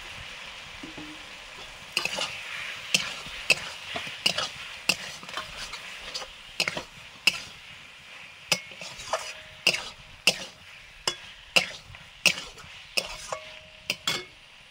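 Boiled potatoes stirred into cooked spices in a frying pan: steady sizzle under repeated close scraping and clinking of a spoon against the pan in a regular rhythm.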